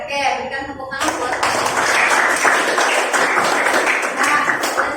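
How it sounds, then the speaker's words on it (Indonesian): Classroom applause for a student group after their presentation, a dense steady clatter of many hands that begins after a second of talk and continues to the end, close and fairly loud. "berikan tepuk tangan buat"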